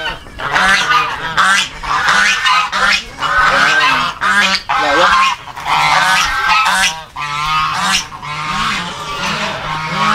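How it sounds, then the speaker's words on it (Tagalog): Geese honking repeatedly and loudly nearby, several birds calling in overlapping bursts with short pauses between. "May gansa ka, partner."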